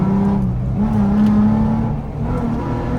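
A Jeep Wrangler's V6 engine hums steadily at moderate revs, a loud, continuous low drone with a slight swell in pitch and volume partway through, heard close and without anyone talking.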